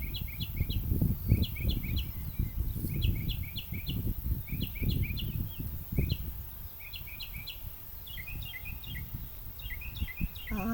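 A songbird sings alone in a quiet outdoor spot at an old rural cemetery in Boyd, Texas, running through repeated bright chirps and varied mimicked phrases in quick bursts over a low rumble of wind or handling noise.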